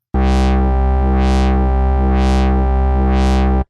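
Massive polysaw synth oscillators heard through two filters at once: a loud, dense sustained tone with bright sweeping swells rising and falling four times in steady rhythm, alone.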